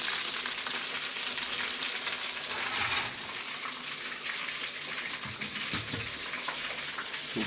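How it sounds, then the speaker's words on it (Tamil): Fish fry in hot oil in a kadai, giving a steady, close sizzle with fine crackling and occasional bubbling spatters, and no voices. "மீன் பொரிக்க ஆரம்பிச்சிடலாம்."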